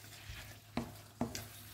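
Coconut milk frying with red curry paste in a pan for a stir-fry with pork belly and bamboo shoots, a low steady sizzle broken by two sharp scraping stirs of a utensil against the pan.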